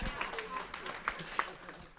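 A single person, a wife, claps lightly in a small room, a few sparse hand claps at an uneven rhythm, faint and close, mixed with murmured talk.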